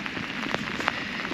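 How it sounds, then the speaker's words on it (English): Steady rain falls outside Palmer, Alaska in the wilderness, a dense close patter of drops with a few louder splats standing out, no voices. "we are now hitting over 24 hours of rain"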